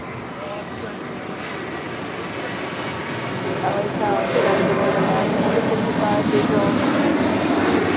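A Citation business jet lands on runway 25 left at Los Angeles International Airport, its engine roar a steady broadband rush that swells a little partway through and holds to the end.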